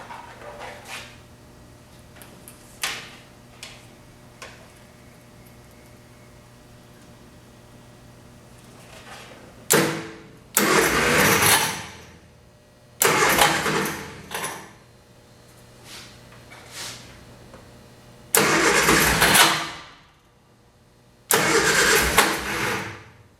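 A 1966 Triumph Spitfire MK2 with a failing starter is cranked on several ignition attempts. Faint clicks lead into four loud, rough bursts of churning engine cranking, each lasting one to two seconds and separated by quiet gaps, and none catches into a steady idle.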